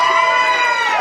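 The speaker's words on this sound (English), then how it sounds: "That's the loudest cheer we've had all weekend." At a Kansas City Open pool tournament, a crowd cheers the junior champion in a brief, loud burst of shouting and cheering voices.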